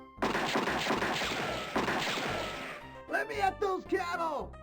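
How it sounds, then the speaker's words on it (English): Gunshots ring out in front of a saloon in the adventure game Freddy Pharkas: Frontier Pharmacist, a rapid clattering volley mixed with yelling and shouting, then a few distinct cries. "Without warning, you hear gunshots out in front of the saloon, plus lots of yelling and shouting."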